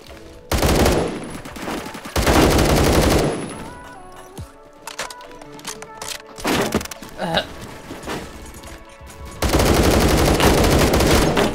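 AK rifle fire in the Roblox shooter Phantom Forces: loud, close bursts of rapid automatic shots in several clusters, with thuds, impacts and game effects between the volleys.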